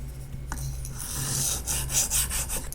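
A Chinese D2 steel blade is drawn across a Nano-hone sharpening stone in a continuous raspy scraping, swelling in strokes toward the end, close and fairly quiet over a low steady hum.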